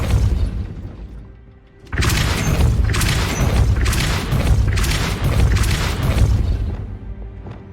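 A Depulso force spell cast in Hogwarts Legacy: after a quieter lead-in, a loud, dense burst of booming, crashing blasts erupts and pulses in repeated waves for several seconds.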